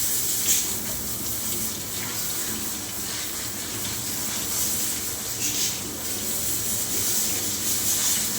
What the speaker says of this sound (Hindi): बिल्कुल हल्के हाथ से इसको हमने वॉश करना है